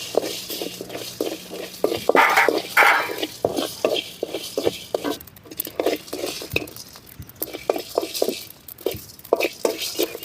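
Cumin seeds frying in hot oil in a pan for a rasam, a close, fairly loud crackle with clinking and stirring of a spoon against the pan, in short repeated bursts and no talking.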